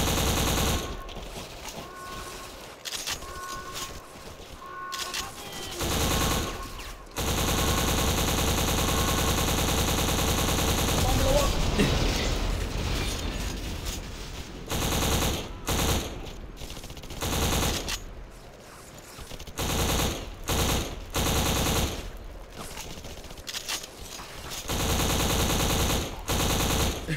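Loud, sustained machine gun fire in the video game Black rattles in long bursts, broken by a few brief gaps, during a border crossing battle.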